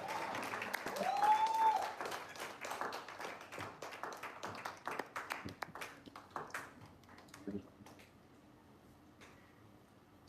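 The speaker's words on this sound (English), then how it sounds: "With a standing ovation and a round of applause, I would like to invite to the stage Dr. Fatuke Abiodun." Conference audience applause rises after a brief tone, a scattered crowd clapping that thins into fewer, sparser claps before fading out.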